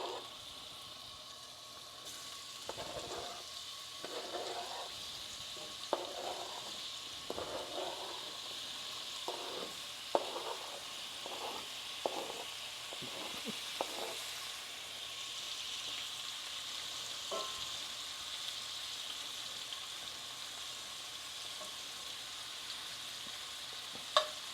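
Seafood sizzles as it fries in a pan, giving a constant hiss with a cluster of louder crackling bursts early on that settle into a steady, close sizzle.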